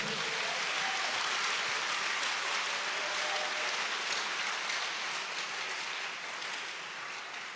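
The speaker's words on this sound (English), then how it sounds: "let's give a clap of praise to the Lord" Church congregation clapping in praise during a youth service, a broad, even wash of many hands heard from a distance, sustained and fairly faint, gently fading toward the end.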